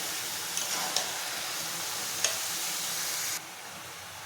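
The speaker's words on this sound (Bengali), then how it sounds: "একটু নেড়ে দেব" Chicken with chopped bottle gourd and potato sizzles steadily in a pan, with a few soft clicks of stirring against the metal over a continuous frying hiss, close and moderately loud, no voices.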